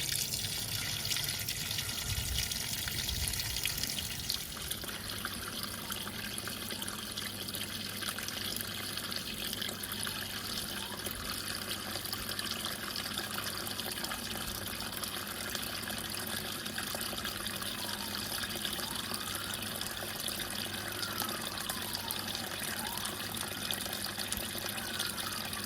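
A National NA9450PN washing machine fills with water for its first rinse, giving a steady, faint rush and trickle of water that continues for about twenty-five seconds with little change.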